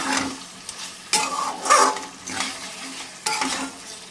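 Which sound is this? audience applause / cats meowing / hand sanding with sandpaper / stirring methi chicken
stirring methi chicken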